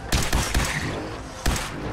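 Gunfire in Fallout 4, a few close and loud shots spread over two seconds in an uneven rhythm, each one a sharp crack with no voices over them.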